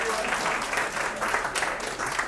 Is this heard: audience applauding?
yes